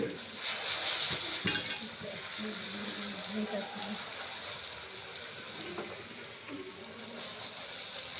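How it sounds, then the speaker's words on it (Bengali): Memoni puri, a Bengali pitha shaped with a design mould dipped in batter, fries in hot oil with a steady broadband sizzle and bubbling throughout, a few brief clinks near the start. "ডুবিয়ে গরম তেলে ছেড়ে দিল মেমনি পুরি"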